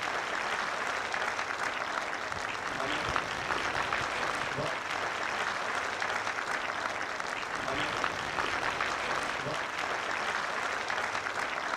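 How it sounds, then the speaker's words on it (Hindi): Loud, sustained applause from an audience welcoming a guest onto the stage at a Kamuna Srijan event in 2015, a dense steady roar of many hands clapping without a break. "जोरदार तालियों के साथ स्वागत करें।"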